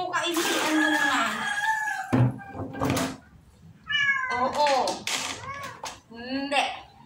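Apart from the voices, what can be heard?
pet cat meowing while being bathed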